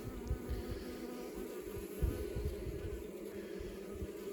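Honey bees buzz steadily around a hive stocked from a swarm trap cutout with brood comb, a dense, continuous drone close by with a faint rise midway.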